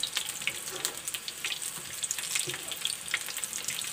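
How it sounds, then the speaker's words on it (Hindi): Dahi vada lentil fritters crackle and sizzle in hot oil on their second side, a busy, close stream of popping spits with no talk. "अब हम दूसरा साइड सेकेंगे"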